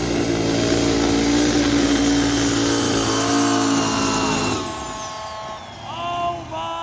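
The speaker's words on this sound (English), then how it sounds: "You gotta rev her up when she's cold, or it won't run." A cold car engine revved hard at a motorsport event, a loud sustained roar with rising harmonic whine that drops off sharply near the end, then sputters and briefly picks up again, heard up close.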